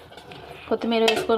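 Tomato prawn curry being stirred after coriander goes in, with a few clinking scrapes of a spoon against the pan, short and close, followed by fuller stirring clatter near the end.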